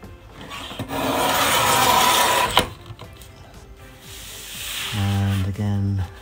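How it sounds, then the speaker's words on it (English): Photo paper pages are trimmed along guide lines with a sliding cutter, giving a long raspy rubbing stroke, a sharp click, then another rough scraping pass and rhythmic ratcheting near the end. "we're just gonna trim these down so they all become exactly the same size"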